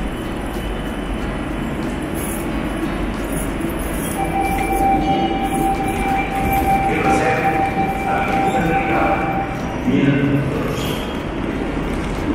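A metro train in the Barcelona subway runs loudly through the underground, its steady roar holding throughout with a drawn-out whine in the middle and a brief clank near the end.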